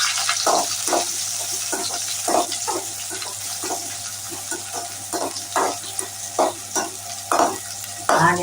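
Onions fry in hot oil for an anchovy dry fish fry, a steady sizzle broken by regular scraping stirs of the spoon in the pan, close up with no voices.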